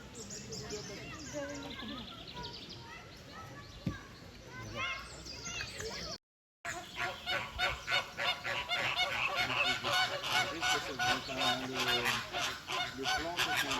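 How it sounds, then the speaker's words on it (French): Ducks or geese at the Branféré animal park in Vannes honk and call repeatedly, first scattered and then in a dense rhythmic run of loud honks, with children's voices and people talking in the background. "Tes canards qui sont arrivés là."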